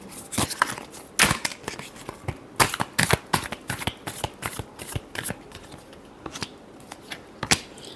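Tarot cards are shuffled by hand in a close series of quick riffling bursts and slaps, irregular in rhythm, with no speech.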